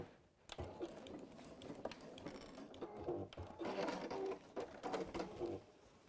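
Sewing machine stitching along fabric seam lines while making tablet covers, a steady quiet mechanical whir and patter in short runs, faint and close with no talk.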